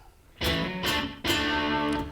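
Distorted electric guitar chords through a Fender Tone Master Pro delay effect strike twice and ring out, each trailing into echoing repeats.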